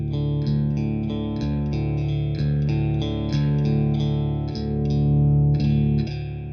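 An electric guitar through a Bad Cat Ocelot boutique amp strums loud, driven chords in a steady rhythm while a knob is swept, the tone growing warmer and fuller, close and without talk.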